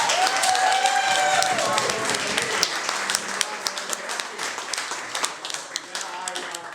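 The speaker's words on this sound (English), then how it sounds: "Another round of applause." Audience applause, a dense burst of clapping and crowd noise that thins toward scattered claps, with a voice and cheering mixed in over it.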